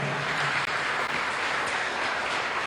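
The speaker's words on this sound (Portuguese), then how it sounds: "Vamos aplaudir Jesus por essa palavra." Church congregation applauding during a Portuguese-language family worship service, a steady broadband wash of clapping that fills the room continuously, loud and without pauses.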